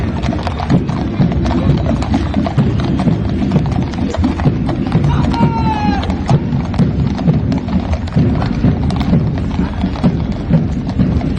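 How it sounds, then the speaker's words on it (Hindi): Hooves of a mounted police unit's horses clip-clop steadily through a parade with eleven horses, a dense continuous clatter with a brief whinny partway through, over crowd and ambient noise. "आज की परेड में 11 घोड़े शामिल हैं।"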